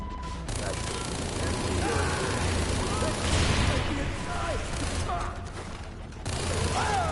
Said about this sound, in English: I just fire from the hip and everyone collapses